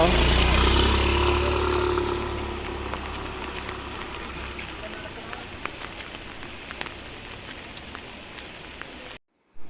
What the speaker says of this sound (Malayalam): നന്നായിട്ട് മഴ പെയ്യുന്നുണ്ട്